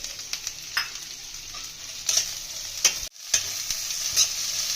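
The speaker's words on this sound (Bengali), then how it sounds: "পেঁয়াজ কুচি এগুলো একটু ভেজে নিয়ে ফিরে আসছি" Chopped onions fry and are stirred in a pan while making veg pulao, a steady soft sizzle broken by scraping strokes of the spatula and brief knocks, close and alone with no talking.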